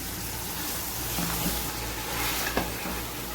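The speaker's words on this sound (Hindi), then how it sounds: "चिकन हमारा फ्राई हो रहा है" Chicken pieces frying in a pot for pulao, giving a steady, dense sizzle throughout with no pauses, plus a faint clink near the end.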